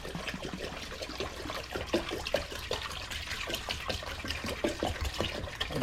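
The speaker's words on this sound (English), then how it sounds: "So we just pour our distilled water into this pot." A gallon of distilled water is poured into a pot, giving a steady, close splashing trickle that runs continuously without pause.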